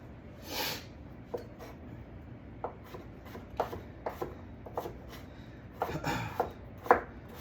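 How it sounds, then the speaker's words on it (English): A knife rough-chopping potatoes on a board in a home kitchen making broccoli cheddar soup, with a dozen or so irregular, close, crisp chops spread across the clip and no talking. "I'm just doing a little rough chop on these potatoes"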